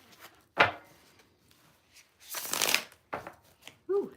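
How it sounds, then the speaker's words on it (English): Tarot cards being shuffled during a live reading: three quick papery riffling bursts, the middle one longest and loudest, separated by near-silence, close to the microphone. "that was a nice little shuffle there"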